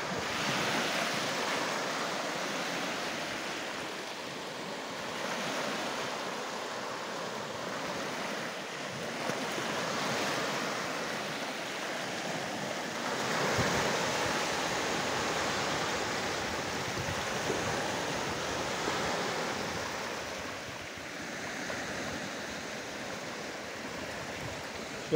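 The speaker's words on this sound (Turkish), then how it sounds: "Deniz normalde dalgalı ama şu anda hafif bir dalga var." Soft sea waves wash steadily onto the shore at Cunda, Ayvalık, Turkey, a continuous gentle rushing hiss with faint swells and some light wind.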